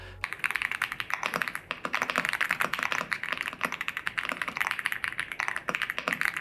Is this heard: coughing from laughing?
no